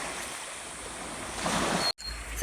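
Sea waves washing onto a beach, a soft steady surf wash that swells louder near the end before a brief dropout and a final burst.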